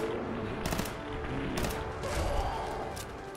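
Gunfire from a hard-recoiling weapon in Fallout 4, fired in short bursts over a steady rumbling game background, with sharp broadband cracks spaced through the clip.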